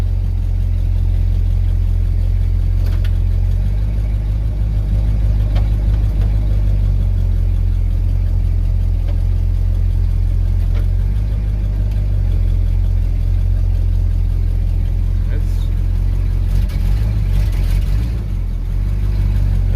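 A 1970 Dodge Charger with a 413 engine runs loud and steady during a test drive, its deep engine rumble holding close throughout with slight rises as it pulls through gears, and no talking over it.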